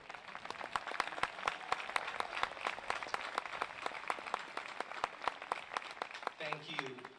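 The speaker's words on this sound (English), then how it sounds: "let's celebrate and applaud them for their great work" An audience at a university commencement applauds the standing faculty, a dense, steady burst of clapping throughout that tails off near the end as a voice begins speaking.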